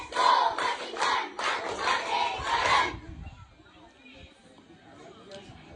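Crowd at a Boy Scouts of the Philippines presentation at an elementary school clapping in unison in several rhythmic bursts with shouts mixed in, then dropping off to quiet room noise halfway through.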